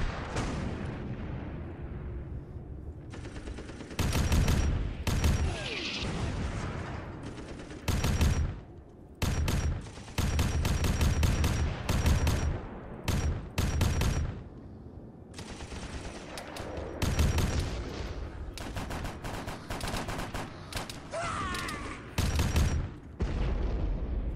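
Heavy gunfire and tank cannon blasts from an ARMA 3 battle with a Warhammer 40k mod, loud dense volleys of rapid shots and booming impacts in irregular bursts throughout, with no talk.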